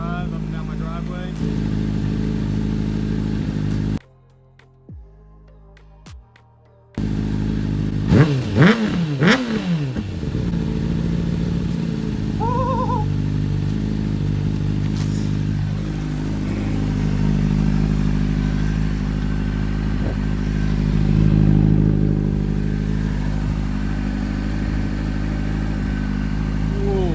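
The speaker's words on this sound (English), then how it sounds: "The way I've been riding is just on my drive right here, a little private drive up and down my driveway." A motorcycle ridden on a private driveway, its engine idling steadily with a brief cutout, then revving up and down in a few rising and falling pulls, close and loud throughout.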